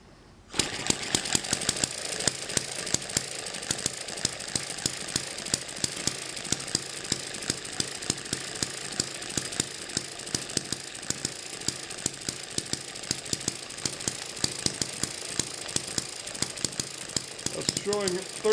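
An Eachine ET7 hit and miss model engine with reflective strips on its taped flywheel runs steadily near 1600 RPM, giving a fast, even train of sharp mechanical clatter that continues close and loud throughout.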